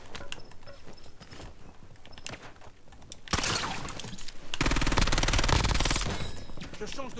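Call of Duty Warzone gunfire: scattered shots and mechanical clicks early on, then dense, loud bursts of automatic fire that continue to the end.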